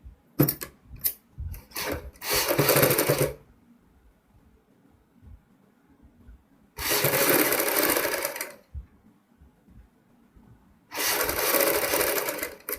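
An electric sewing machine runs in three sustained bursts of stitching along a kurti seam, preceded by a few short stuttering starts, with quiet gaps of handling between runs.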